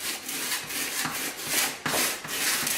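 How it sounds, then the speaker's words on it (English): A tool scrapes and rubs steadily across a plaster wall to burnish it, making close, rhythmic rasping strokes with short pauses between passes. "They call this burnishing."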